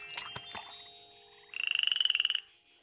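A single frog gives a clear, rapid pulsed croak lasting under a second, standing alone after some faint scattered background noise.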